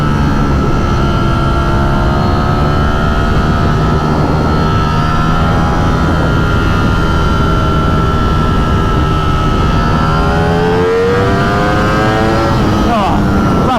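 A tuned Ducati Streetfighter V4S motorcycle engine roars loud and close at full throttle, a continuous dense howl whose pitch climbs sharply near the end.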